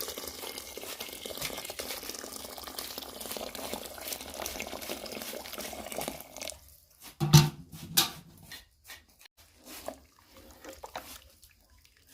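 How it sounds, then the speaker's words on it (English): Rice boiling in hot water in a pot, a steady bubbling hiss that fades into scattered drips, clanks and small stirring clatters near the end, close and fairly loud, no talking. "We are boiling our rice."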